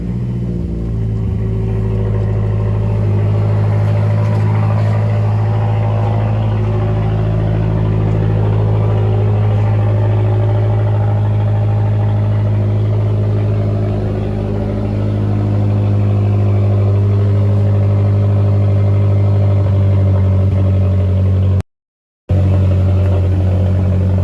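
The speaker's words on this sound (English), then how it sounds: "what one of these cars sounds like without a muffler and without a resonator" A cold Mazdaspeed 3 idling in neutral with no muffler or resonator, giving a loud, steady, deep exhaust drone that holds evenly near the car throughout, without revving and without talk.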